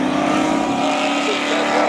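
Race cars at a Labor Day thrill show spectator drag race roar at full throttle through a corner, a loud continuous engine drone that stays steady over the short stretch.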